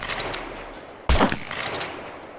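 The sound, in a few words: unsuppressed 12 gauge shotgun firing in video game SCUM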